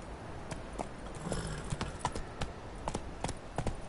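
Horse hooves clip-clop in a brisk, uneven rhythm at moderate distance, sharp clicks repeating over a low background rumble, with no voices.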